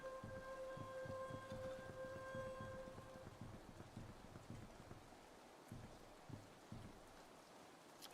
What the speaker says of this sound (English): Now it's all rainy. Of course it is.